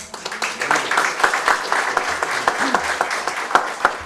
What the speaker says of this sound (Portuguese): Vamos dar uma salva de palmas para ela